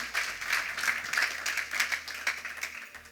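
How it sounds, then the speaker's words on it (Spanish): A church congregation applauds together, a dense wash of clapping from many hands that holds steady for a few seconds at moderate volume. "Aplauda al Señor, por favor."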